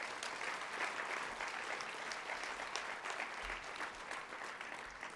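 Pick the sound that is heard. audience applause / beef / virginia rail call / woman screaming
audience applause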